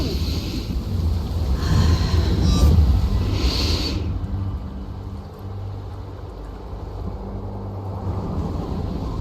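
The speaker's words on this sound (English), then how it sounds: "The wind. It's shifting." Wind blowing in Zenless Zone Zero, a broad rushing gust that swells loudest in the first few seconds and then settles into a lower, steady hollow drone.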